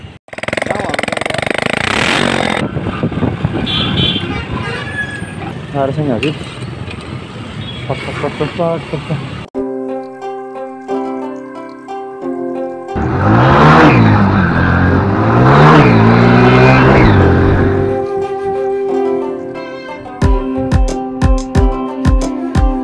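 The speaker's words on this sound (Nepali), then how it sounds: "यस्तो भएर चाहिँ साउन्ड सुन्यो गाइस, एक्जस्ट बिनाको साउन्ड" Crossfire motorcycle engine running with no exhaust fitted, loud and raw, revving and settling in uneven bursts with sharp pulses near the end; a voice speaks briefly.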